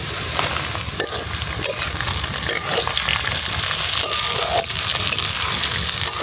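Salt and chopped chili sautéing in a hot pan for village-style Bengali bhuna khichuri, with a steady loud sizzle and frying crackle running throughout, broken by occasional stirring scrapes.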